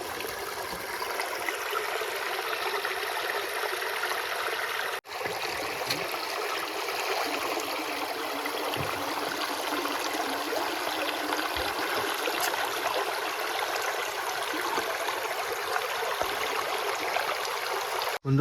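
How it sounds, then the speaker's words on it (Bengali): Strong river current rushing in the Sundarbans at dawn during night net fishing, a continuous loud wash of water with no pause and no talk. "স্রোত কি স্রোত জলের হেভি স্রোত চলে"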